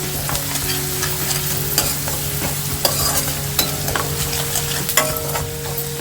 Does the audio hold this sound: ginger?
yes